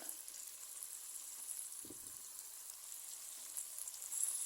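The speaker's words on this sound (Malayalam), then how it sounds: "ഇതൊന്ന് വഴറ്റിയെടുക്കാം" Onions, tomato, green chillies and ginger sauté in oil for a fish mappas with a low, continuous sizzle and faint crackle. It stays quiet and even, with one brief soft thump midway and no talking.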